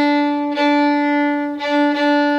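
Fiddle sounding a sustained bowed tone in the lilting 1-2-3 waltz rhythm of the Arran Boat Song, a traditional Scottish air, with a few bow-stroke swells; close, steady and alone without talk.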